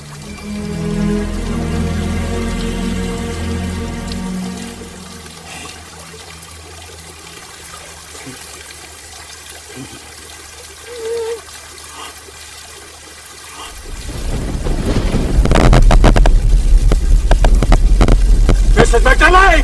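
Water rushes and gurgles, starting with a soft trickle and low hum, then swelling into a loud, steady flushing stream that fills the last several seconds.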